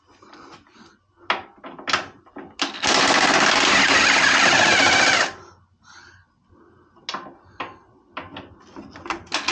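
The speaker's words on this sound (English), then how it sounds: "So let's try a 13 millimeter six-sided socket." On a Jeep TJ, an impact wrench with a 13 mm six-sided socket hammers loose a bolt in one loud, continuous burst lasting about two seconds, framed by scattered clicks and clanks of tool handling.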